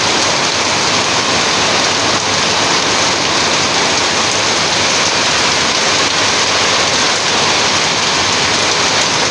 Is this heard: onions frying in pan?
no